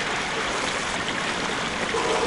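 Water flows steadily in the Harry Potter and the Prisoner of Azkaban video game, a loud, continuous rushing wash like a stream that holds even throughout, with no voices.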